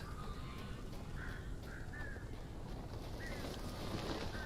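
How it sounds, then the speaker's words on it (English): Crows caw in the video game Alan Wake, several short harsh calls scattered over a steady windy background, moderately distant and not very loud. "That's a lot of crows."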